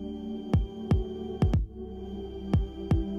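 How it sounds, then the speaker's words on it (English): Heartbeat shared from an Apple Watch, six deep low thumps in uneven pairs, close and clear over a steady faint hum. "you can even share something as personal as your own heartbeat"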